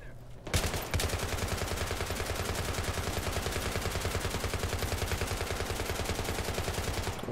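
Sustained automatic gunfire in Battlefield 3 on Operation Metro, loud and close, a long rapid rhythmic burst of shots that keeps a steady beat for nearly seven seconds after a couple of opening cracks.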